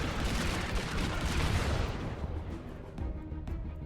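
Rumbling barrages of artillery fire in the RTS game Sanctuary: Shattered Sun, dense at first and thinning into scattered distant booms.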